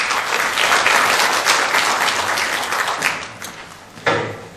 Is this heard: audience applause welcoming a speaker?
yes